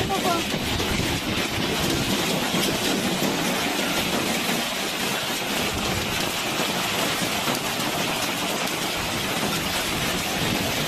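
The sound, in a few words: heavy rain and hail in strong wind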